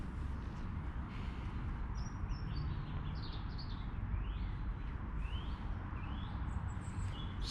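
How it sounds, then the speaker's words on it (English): Birds sing near a campsite in short, faint chirps and whistled phrases repeating over a steady rumble of outdoor background noise, with no one speaking. "Sit and listen to birds there."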